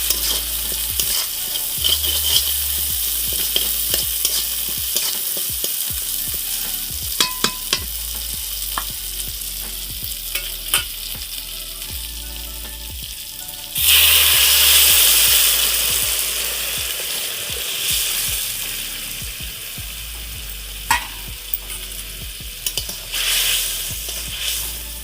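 Fish fries in oil with poppy seed paste, chilli and green chillies, giving a continuous sizzle with scattered stirring clicks. A sharp, louder surge of hissing arrives midway, then settles back.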